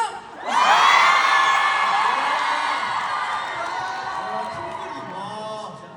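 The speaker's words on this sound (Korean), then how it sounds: "추추단 함성!" Fans of the fan club erupt into a sudden loud cheer of high-pitched screams and whoops that holds strong and slowly tapers, with faint talk underneath.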